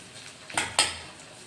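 A knife cuts through a large tomato, making two sharp, close taps against the board in quick succession over a faint, steady background hiss.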